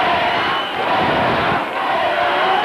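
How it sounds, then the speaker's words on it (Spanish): A large crowd at a street demonstration for victims booes in a sustained, loud, roaring jeer that swells and dips slightly without pause. "Y también los abucheos."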